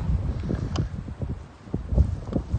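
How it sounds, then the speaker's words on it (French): Steady outdoor wind buffets a smartphone microphone near a lock-keeper's house, a continuous low rumbling roar with gusty swells and faint rustling, with no voice over it. "Donc bouchez vos oreilles pour le vent"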